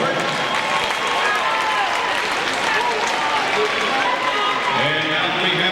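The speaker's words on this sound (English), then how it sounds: "let's have a big round of applause for Miss Afro and her court" Big round of applause for Miss Afro and her court at a Beckley vs Princeton basketball game, sustained crowd clapping and cheering that stays loud and even, with voices mixed in.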